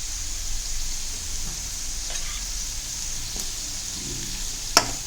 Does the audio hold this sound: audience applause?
no